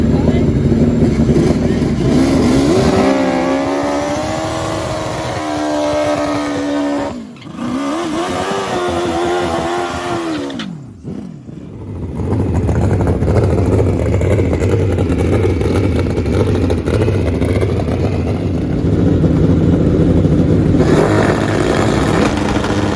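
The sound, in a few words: turbocharged Suzuki Hayabusa motorcycles drag racing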